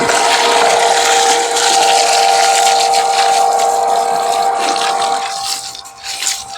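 A Ryobi 18V pole pump drawing water from buckets, a loud steady motor hum over rushing, gurgling water that runs continuously before thinning out and sputtering near the end, no talking.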